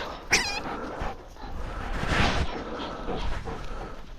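A dog whimpers, yips and pants close by during a morning of fetch, with soft movement noise and no voices.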